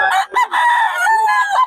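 A rooster at a busy poultry market crows once, loud and close, in a drawn-out, wavering call.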